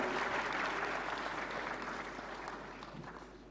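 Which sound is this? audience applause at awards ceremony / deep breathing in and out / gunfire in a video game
audience applause at awards ceremony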